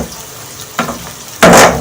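Onions frying in a pan, a close sizzle that swells into a louder burst of hissing near the end, with a short stirring scrape before it.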